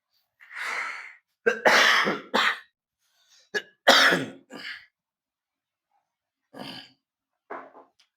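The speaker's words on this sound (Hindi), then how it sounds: "जब जब बोलते हैं खांसी हो जा रहा है" A person coughs and clears their throat in a series of harsh bursts, some grouped in quick pairs, separated by short silences, close and fairly loud with no talk between.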